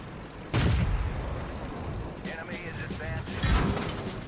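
Tank cannon fire in World of Tanks, with a Cromwell shooting at a KV-2: two heavy booming shots about three seconds apart, plus mechanical clatter, and a commentator talking throughout.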